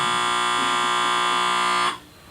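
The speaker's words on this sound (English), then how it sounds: "And we have a smoke detector in here, which sounds like that." A loud, steady electronic alarm tone with bright harmonics blares continuously for about two seconds, then cuts off abruptly.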